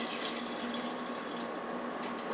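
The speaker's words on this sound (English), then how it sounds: "I'm going to add some water." Tap water pouring steadily into a pot of chicken gizzards and hearts, a continuous close splashing stream with no pause.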